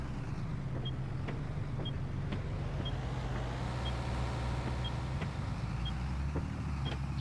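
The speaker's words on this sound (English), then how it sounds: "It's pretty impressive, this traffic." Road traffic heard from inside a vehicle, a steady low engine and road rumble with periodic faint clicks and a passing car swelling midway, no voices.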